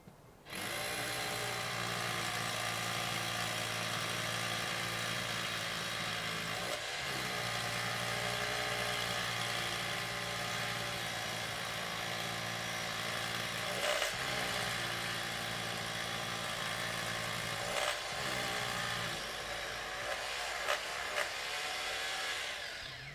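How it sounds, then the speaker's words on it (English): An SDS hammer drill with a 14mm bit runs continuously for over twenty seconds with a loud, steady grinding whir, briefly dipping in pitch a few times as it bites. "the SDS hammer drill is fitted with a 14mm drill bit"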